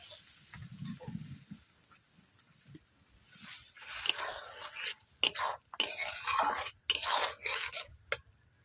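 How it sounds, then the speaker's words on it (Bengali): Prawn malai curry being stirred in a pan after a little water is added, giving soft wet scraping and clinking patter that grows busier toward the end, with a voice speaking quietly near the start. "এইভাবে আমি অল্প করে নেড়ে নিচ্ছি বন্ধুরা।"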